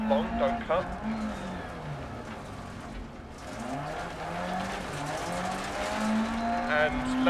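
A rally car in the DiRT Rally video game slides on gravel, its engine rising and falling in pitch with bursts of tyre scrabble, while someone talks steadily over it.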